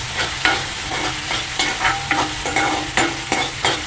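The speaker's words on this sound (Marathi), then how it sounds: "कांदा लालसर झालेला आहे टॉमॅटो घाला छानपैकी परतून घ्या" Onion and tomato sautéing in a pan for a Malvani broad bean curry, with a loud steady sizzle broken by repeated rhythmic scrapes of a spoon stirring close by.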